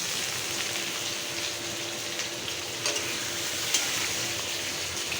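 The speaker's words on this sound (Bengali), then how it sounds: "দেখো, দেখে নাও মাছের ঝোল হচ্ছে" Fish curry simmers in a pan, giving a steady, even bubbling sizzle that continues close and unbroken, with no talking.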